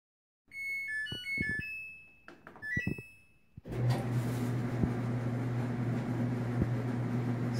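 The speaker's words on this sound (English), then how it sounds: "we're going to turn the dryer on while we have the door" A clothes dryer in a closed laundry room starts after a few electronic beeps, then runs with a steady low hum and broadband whoosh of tumbling air, continuous and close.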